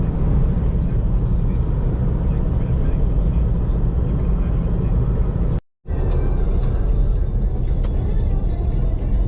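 A truck passes on a country road, a loud, steady low rumble and roar heard from inside a moving vehicle, with a brief dropout partway through.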